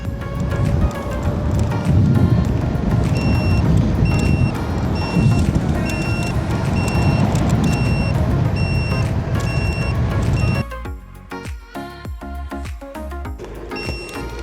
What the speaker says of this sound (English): the sounds, they might be annoying to some people, but I leave my turn signals on all the time